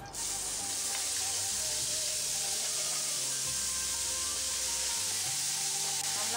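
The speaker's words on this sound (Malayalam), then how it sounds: "ഇതേ പാനിൽ തന്നെ രണ്ട് ടേബിൾ സ്പൂൺ എണ്ണ ഒഴിച്ചു കൊടുത്തു ഇതിലേക്ക് ഈ എടുത്തു വച്ചിരിക്കുന്ന സവാള ഇട്ട് കൊടുക്കാം" Onions frying in two tablespoons of oil in a pan while cooking Kerala chatti pathiri filling: a steady, loud hiss and sizzle that begins abruptly and continues evenly throughout, with no voices.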